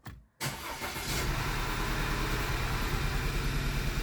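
An Audi B8 A4 engine with a cylinder 2 misfire fires up after a brief pause and is held at steady raised revs, a loud close continuous roar with no talk.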